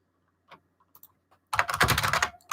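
Rapid typing on a computer keyboard, a few scattered key taps followed by a dense burst of clattering keystrokes, close and clear in a quiet room.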